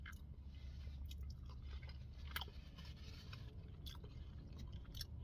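Someone chews crinkle cut fries up close, with soft, irregular crunchy and squishy bites continuing for several seconds and no talking.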